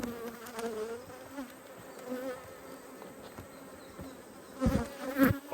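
Honey bees buzz steadily in a nucleus hive opened for inspection, a close, continuous drone with louder passes as individual bees fly near.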